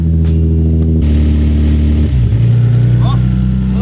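A Nissan 350Z fitted with a Manzo Y-pipe and test pipes idles loud and close, a steady deep exhaust drone that dips and shifts in pitch unevenly, with a voice briefly heard over it.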